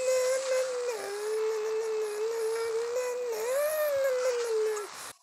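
Dogs howling in the survival video game Last Day on Earth, one long wavering howl that rises and falls for about five seconds, loud and close over a steady background hum.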